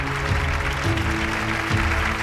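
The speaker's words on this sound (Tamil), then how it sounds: "மீண்டும் ஒருமுறை ஒரு பெரிய கைத்தட்டல் கொடுத்தலாம்" Audience applause for the anchor at an awards ceremony for a singing show, moderate steady clapping from a crowd in a hall with a sustained musical tone underneath.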